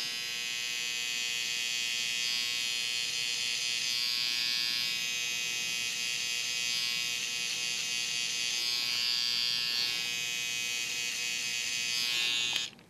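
Electric hair trimmer buzzing steadily and close while a fade is cut in a side-part haircut, one continuous hum lasting about thirteen seconds before it cuts off, with no talking.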